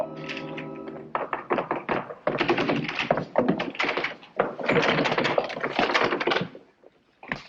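Heavy thumps and rapid knocking on a blocked door, loud and close, coming in dense bursts with short pauses between them.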